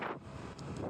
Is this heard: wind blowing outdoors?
yes